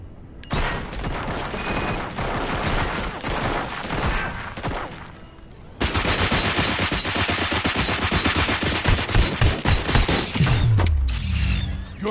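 Gunfire and clanking mechanisms in the video game RoboCop: Rogue City, a dense, loud stream of shots and metallic rattles running without pause and growing busier in the second half.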